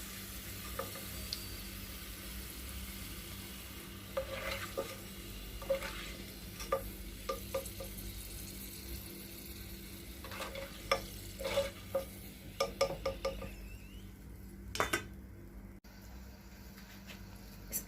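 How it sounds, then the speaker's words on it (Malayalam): Raisins frying in oil in a pan, a soft steady sizzle with intermittent clicking stirs and scrapes, quiet and close, with a low background hum. "ആവശ്യത്തിന് വേണ്ട കിസ്മിസ് നമുക്ക് ഫ്രൈ ചെയ്തെടുക്കാം."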